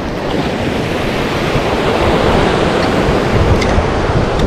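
Ocean surf breaks and rushes steadily on a remote Central American island shore, a loud continuous wash mixed with wind buffeting the microphone.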